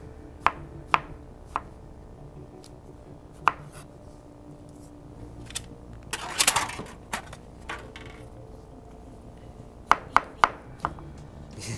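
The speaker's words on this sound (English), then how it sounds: "So we're gonna slice up these strawberries a little bit." Fresh strawberries are sliced with a knife on a cutting board, the blade knocking sharply down in uneven taps, some in quick pairs, with a brief rustling clatter midway, close and clear.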